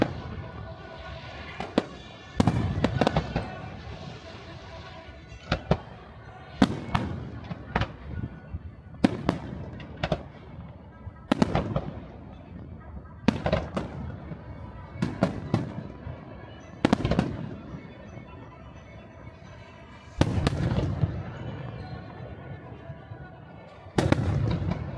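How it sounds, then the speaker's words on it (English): Fourth of July fireworks at SeaWorld boom and crackle in a long series of sharp, loud bursts. The booms echo and are spaced a few seconds apart, with a steady background of crowd murmur and talk from people nearby. "Fireworks were actually pretty good"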